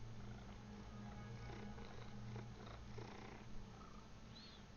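A pet cat named Gibson purrs close up, a steady low rumbling purr that continues evenly throughout, with a faint background of quiet sounds.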